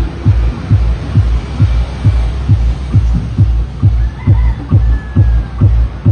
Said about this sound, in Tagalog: Yan yung tunog ng ating sub